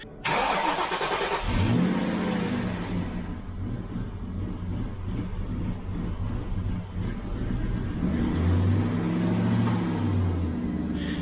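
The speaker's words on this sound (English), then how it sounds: "When I go to crank the car, it still kind of like hesitates" Ford Mustang GT engine cranking and hesitating on startup, with a steady mechanical cranking whir before the engine catches and runs roughly at close range, surging and dipping with a brief rev near the end.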